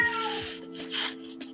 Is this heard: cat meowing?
yes